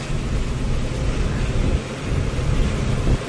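Heavy rain drumming steadily on a truck cab during a drive, with a deep rumbling low roar underneath, loud and continuous.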